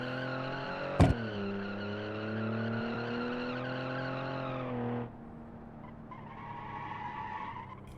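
A rally car engine screams in a racing video game and tires skid in a long sliding oversteer slide, a sharp impact thump early on, then the engine note drops and settles.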